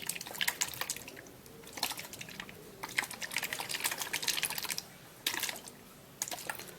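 Liquid sloshes and rattles inside a spray bottle in a series of short, vigorous shaking bursts separated by brief pauses, heard close up.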